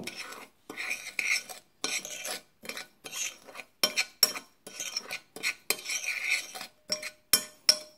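Homemade dishwasher tablet ingredients mixed in a container with a spoon, a close series of short scraping and clinking strokes separated by brief pauses, no voices.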